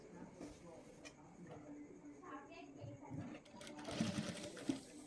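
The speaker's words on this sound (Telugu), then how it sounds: "ఇలా స్టిచ్ చేసుకున్న తర్వాత దీనికి ఇక్కడ నుండి ఒక కుట్టు వేసుకుందాం" A sewing machine stitching a neck design on a blouse, running in short bursts of rapid mechanical clatter, close and fairly quiet, with someone talking over it.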